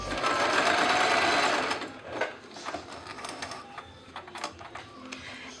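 A Singer M3205 sewing machine runs loud and steady while stitching a buttonhole. It stops after about two seconds, and a series of short mechanical clicks and taps follows.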